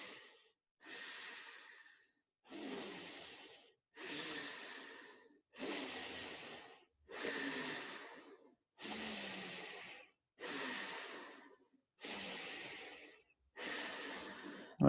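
Quick, sharp abdominal breaths through the nose in a yoga breathing exercise: about eleven forceful exhales in an even rhythm roughly every second and a half, close and alone.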